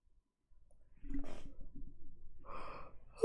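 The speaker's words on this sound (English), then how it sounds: "Ooh, big yawn." A single big yawn from a person, starting with a sharp gasping intake of breath and drawing out into a breathy, groaning exhale, close and quiet with a short vocal note at the end.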